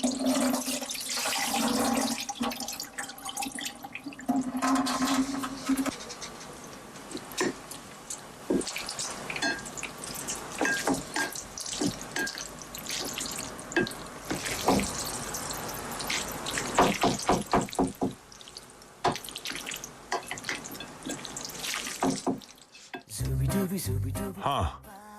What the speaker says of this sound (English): What you heard was a sound of maybe water dripping or coming out of a faucet.